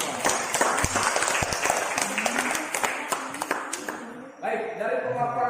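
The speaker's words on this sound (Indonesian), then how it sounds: "Kemudian kita beri aplaus untuk Inde dan teman-teman" A class applauds a student group, dense clapping from many hands that fades out after about four seconds, followed by quieter room sound with a voice speaking.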